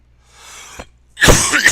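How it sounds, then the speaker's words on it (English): A man coughs close to the microphone: a faint breathy rasp, then one sharp, harsh, loud cough burst with a rough tail. "this cough is brutal."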